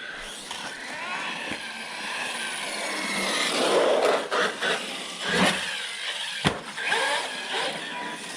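A Redcat Valkyrie RC car runs with an odd, uneven mechanical whine and some cogging, rising and falling in close bursts with a few sharp clicks and knocks.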